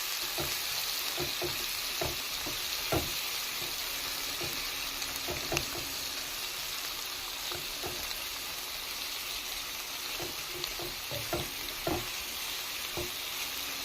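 Plenty of chopped onions frying in oil in a pan after tempering with five-spice, a steady close sizzle broken by regular clicks and scrapes of stirring.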